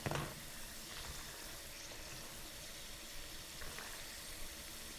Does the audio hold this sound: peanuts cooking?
yes